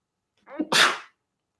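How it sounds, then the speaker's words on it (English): A single sharp sneeze with a short intake before the burst, close and fairly loud, then silence. "Excuse me about the sneeze."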